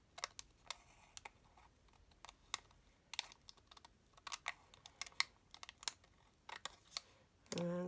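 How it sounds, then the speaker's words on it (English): Scissors trim tracing paper at a crafting table while making a junk journal, a run of sharp, close snips and clicks in an irregular rhythm, ending with a louder rustle. "Just going to trim this tracing paper."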